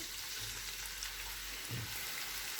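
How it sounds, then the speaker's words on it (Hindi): Chopped onions frying in about five spoons of hot cooking oil in a home kitchen pan, a soft steady sizzle with faint crackles and a brief stir-like rumble, no voices. "ऑयल गर्म हो गया है, अब इसमें प्याज डाल देंगे"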